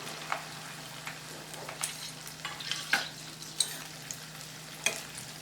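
Okra for a bhindi-potato dish goes into hot oil on full flame, giving a faint, soft sizzle with scattered light clicks and pops of frying, quiet and close, no talking.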